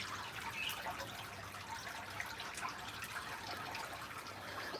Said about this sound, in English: And here you can see this little water fountain.